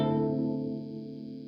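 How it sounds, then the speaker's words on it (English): A Source Audio Artifact uVerb reverb pedal with its high cut filter turned down rings out as a dark, sustained harmonic tail that slowly decays. "this controls a high cut filter on just the reverb as well"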